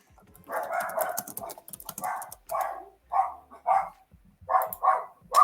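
A dog barks in a string of loud, close barks, around a dozen in uneven bursts with short gaps, with no talk over them.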